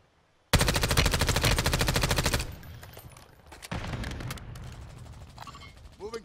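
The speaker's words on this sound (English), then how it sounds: "He's actually shooting things right now." Video game gunfire in a multiplayer shooter: a loud sustained automatic burst for about two seconds, then quieter scattered shots and mechanical clatter.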